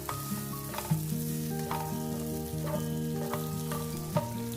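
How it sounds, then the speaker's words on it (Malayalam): Chicken pieces frying in a pan for a Malabar-style tandoori chicken crepe filling, a steady close sizzle with occasional stirring clatter, no voices. "അപ്പോൾ ഇത് നല്ലപോലെ ഫ്രൈ ചെയ്തെടുത്തിട്ടുണ്ട്."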